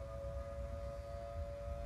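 Tornado siren in the Roblox game Twisted, a steady sustained wail held at one pitch for the whole span, fairly faint over a low rumbling wind-like background with no talking.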